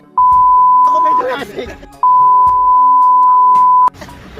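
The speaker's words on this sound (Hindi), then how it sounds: "इस वीडियो में आज पूरी बीप होने वाली है" Censor beep sound effect: two loud, steady single-pitch tones, the second longer, with a brief stretch of talk between them.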